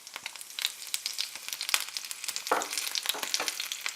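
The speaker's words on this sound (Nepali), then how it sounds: "केही बेर हामी फ्राई हुन दिनेछौँ।" Green chilli, bay leaf and cumin seeds frying in a pan for cauliflower curry, giving a steady close sizzle with crackling pops and bursts throughout, alone without voices.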